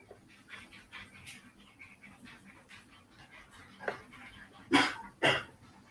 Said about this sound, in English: My son is playing with the dogs and making a lot of noise.